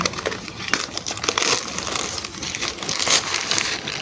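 Plastic polybag crinkles and crackles as it is opened to pull out a sandpaper fig plant for repotting, close and continuous, with no talk.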